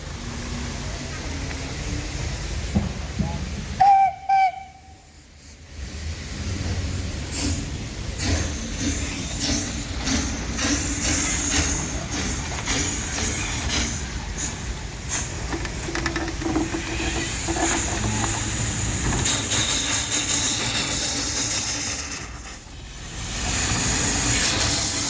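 A steady, rumbling hiss and mechanical churning from a working jackshaft steam locomotive at a Javanese sugar mill continues for about twenty seconds, with a brief quieter gap early on, and someone speaks over it.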